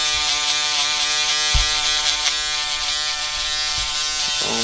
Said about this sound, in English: Now we got these Andis shavers.